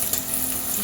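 Onions frying with a pinch of salt for an egg curry, giving a steady close sizzle with faint crackles throughout the short moment, no talk.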